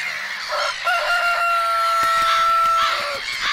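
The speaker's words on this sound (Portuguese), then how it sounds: "E o galo?" Rooster crows once in a cartoon, a long loud drawn-out call close by over a busy farmyard bed of clucking fowl.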